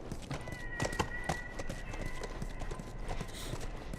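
Horse hooves clip-clop in a steady walking rhythm within The Last of Us video game, close and moderately loud over a faint ambient background, with a brief snort-like sound in the mix.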